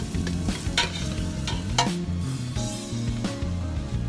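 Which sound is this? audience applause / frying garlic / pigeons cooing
frying garlic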